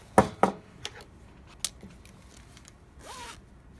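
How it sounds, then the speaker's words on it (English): A zipper is pulled along a small sewn fabric pouch, with a few quick, close, sharp zipping strokes and light handling clicks in a quiet room. "So now I have a little zipper pouch"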